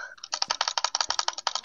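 A computer keyboard is typed on rapidly during a game: a dense, even stream of close, crisp key clicks with no speech over them.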